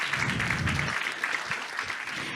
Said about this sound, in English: applause for them because it's important